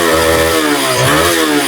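Running engine of a TVS Raider 125 motorcycle with timing chain noise, a loud, close, steady idle with a raspy, rattling mechanical buzz throughout.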